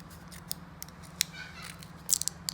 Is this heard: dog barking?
no